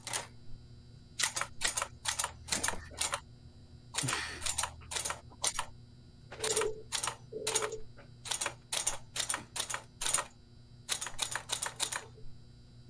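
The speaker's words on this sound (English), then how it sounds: "Oh wait, it's a typewriter." Typewriter keys clack in quick, uneven bursts inside the video game Employee of the Month, with short pauses between runs of close, crisp keystrokes and no talking.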